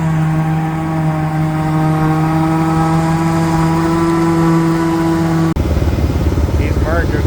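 A hay merger works a field on a windy, drying day, giving a loud, steady mechanical drone with strong tonal engine hum. It shifts abruptly near the end, and someone talks over it.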